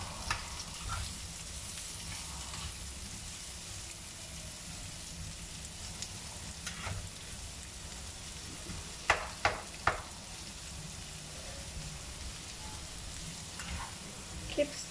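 Onions fry in a pan for turmeric fried chicken, a faint steady sizzle with occasional light stirring clicks and a few sharp utensil knocks midway.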